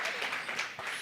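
A faint, steady patter of audience applause at a Woman in Business gathering fills the whole second without a break.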